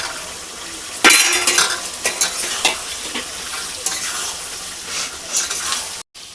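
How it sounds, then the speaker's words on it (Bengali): Fried chicken pieces tumbled and stirred into a chili chicken sauce of Kashmiri chili powder and vinegar, with a loud spoon-scraping clatter and sizzle starting abruptly and continuing in irregular stirring bursts. "এইবারে চিকেন ভাজাগুলো সব দিয়ে দেবো"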